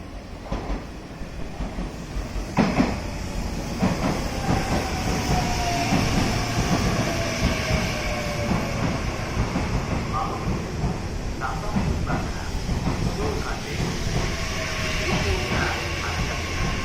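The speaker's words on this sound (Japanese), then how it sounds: "1番乗り場から電車が発車します。" An electric train departs from platform 1 at a station in Fukuoka, its motor and wheels rumbling steadily with faint clicks and whining tones, while muffled station announcements carry over the noise.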